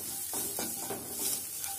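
Ground spices for a vegetable cutlet sauté in a pan with a soft, steady sizzle. A few quick stirring scrapes come close together, fairly faint overall.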